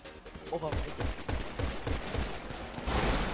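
A firefight in FiveM with gunshots and bursts scattered throughout, loud and close, mixed with shouting voices and game noise.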